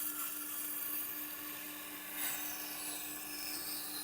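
A steel knife blade is ground against a sharpening stone to set a new bevel, giving a steady close rasping scrape that holds for several seconds and swells slightly partway through, with a faint steady hum beneath and no talking.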